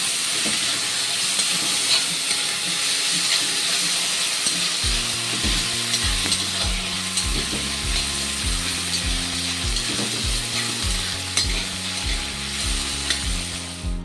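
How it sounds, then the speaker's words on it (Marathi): Chopped tomato sizzles steadily in hot oil with onion masala while being stirred, with a rhythmic scraping and clatter of the spoon against the pan running through the frying. "तो टोमॅटो आपल्याला घालून घ्यायचा आहे आणि याला चांगलं मिक्स करून घ्यायचं आहे"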